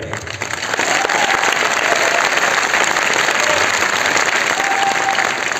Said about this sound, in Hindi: ताली कम बज रही है क्या?